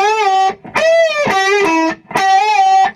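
An electric guitar plays a distorted lead lick from a solo, three sustained, bent notes in short phrases separated by brief gaps, loud and close, with no talking.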